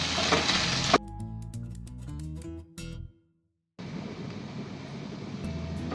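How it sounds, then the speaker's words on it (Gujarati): Garlic and ginger paste sizzles hot in a pan while being sautéed for a Dang-style green val bean curry, a dense crackling hiss broken by clinks and a brief silence before the frying resumes. "લસણ ને આદુને બે શેકી લેવાનું બરાબર"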